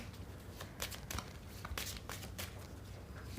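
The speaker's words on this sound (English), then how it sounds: "No, I think I'll shuffle." Tarot cards are shuffled by hand, producing soft, quiet riffles and brushing slaps in short irregular bursts close by, over a low background hum, with no talk.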